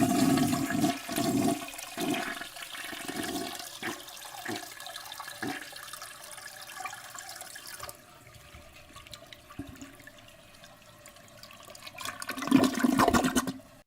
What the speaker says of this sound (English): flushing toilet noise.